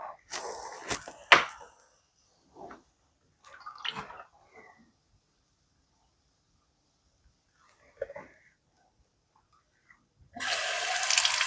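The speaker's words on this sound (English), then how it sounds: "So I'm rinsing out my black beans." Tap water splashes into a sink while canned black beans are rinsed, with short bursts of clatter and pouring early, quiet gaps, then a steady rush of running water at the end.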